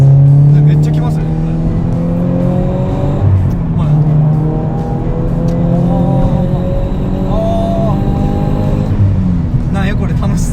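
A Toyota ZN6 86 fitted with an HKS GT2 supercharger kit accelerates hard, engine note climbing steadily with a rising supercharger whine, loud and continuous inside the cabin while occupants talk over it.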